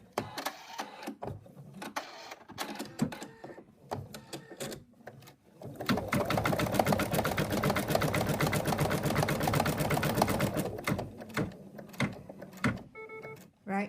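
Embroidery machine stitching a toy cat's arm in place, with sparse clicks and mechanical shuffling at first, then a loud, rapid, rhythmic needle chatter lasting several seconds before stopping.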